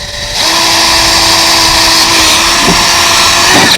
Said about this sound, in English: We take our drill and we start right in the corner, right there, and we just drill a small hole right through.